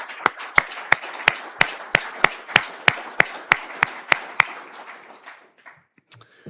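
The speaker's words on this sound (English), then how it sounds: "I would like to give them a huge round of applause" Audience applause at an Institution of Chemical Engineers presidential address: a steady train of crisp, evenly spaced claps over a soft wash of clapping that stops after about four and a half seconds and leaves a quiet room.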